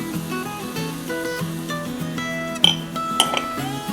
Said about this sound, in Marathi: आणि आता ही भाजी आपण छान परतून घेऊ.